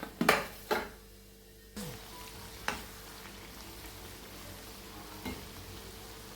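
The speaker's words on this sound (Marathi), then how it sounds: "अशाच पद्धतीने बाकी वडेसुद्धा आपण तळून घेऊया।" Corn vadas fry in hot oil with a steady sizzle close by, broken by a few clinks and scrapes of a utensil against the pan.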